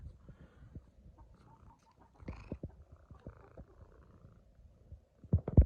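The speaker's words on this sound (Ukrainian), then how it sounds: "Рудий котик" A ginger cat purrs up close in a village setting, a soft rhythmic rumble with irregular low pulses and a couple of louder bumps at the end.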